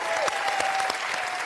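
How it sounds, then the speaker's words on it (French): Studio audience applause greets a contestant on a French evening game show, a dense, steady wash of clapping that fills the whole moment without a break. "Applaudissements pour Sylvie."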